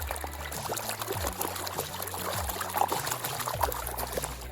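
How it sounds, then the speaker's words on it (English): Water sloshes and trickles in a gold pan shaken side to side, with repeated pouring, dribbling swirls and small splashes in a steady rhythm, close and moderately loud. "So get your pan, side to side, get all the heavy stuff down to the bottom."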